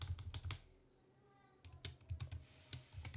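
Close, quiet keystrokes on a computer keyboard come in quick bursts, stop for about a second, then resume in another run of clicks.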